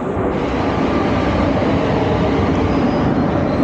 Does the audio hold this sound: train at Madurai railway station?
yes